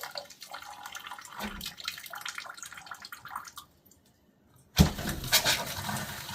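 A sink faucet runs hot water in a steady trickling and splashing stream, pauses briefly into near silence, then bursts back louder with hissing, spattering flow.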